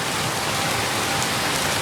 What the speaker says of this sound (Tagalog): Grabe ang lakas ng ulan dito guys.